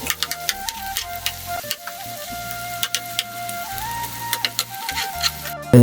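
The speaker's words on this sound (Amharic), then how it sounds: "በመቀጠል ሽንኩርታችንን እናቆላላለን ማለት ነው። ሌላ ዘይት አያስፈልገንም። ድንቹን በጠበስንበት ዘይት በዚሁ እናቆላላለን" Onions frying in leftover oil from fried potatoes, a steady crackling sizzle with occasional stirring clicks and a low background hum, fairly close and alone without talk.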